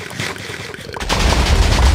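Explosions on a Minecraft server in the video game: a quieter noisy stretch gives way to loud, sustained rumbling blasts that run to the end.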